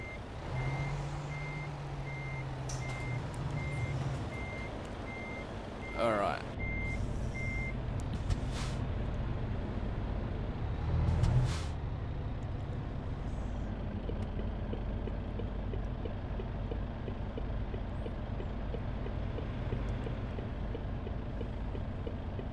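A MAN truck in a simulator game idles and runs steadily, with repeated reversing beeps early on, a hiss like an air brake and a low engine drone throughout, with no talk.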